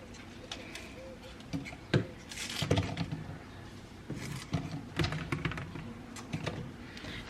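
Knife chopping onion leaves: a series of irregular, sharp chopping taps at close range, sometimes quick and sometimes spaced apart, with birds cooing faintly in the background.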